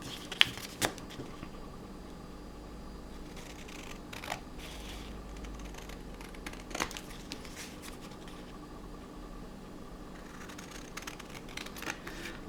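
Scissors trim paper ephemera for junk journals in a quiet room, giving faint, sparse snips and light paper rustles at an unhurried pace.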